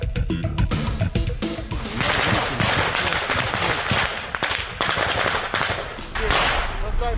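Rapid bursts of gunfire and explosions from the war in Ukraine, loud and dense, crackling continuously throughout.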